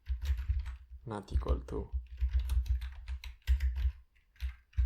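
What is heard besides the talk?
typing code on a computer keyboard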